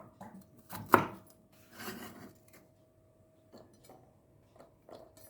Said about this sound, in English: Cut and then chopped